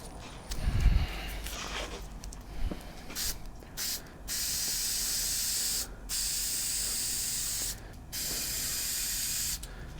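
An aerosol can of spray adhesive hisses in several long sustained bursts over a paper-covered table, close and loud, with brief pauses and a few handling knocks between sprays.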